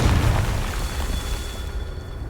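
Confringo spell explosion in Hogwarts Legacy, one loud booming blast at the start that rumbles and gradually fades away over a couple of seconds.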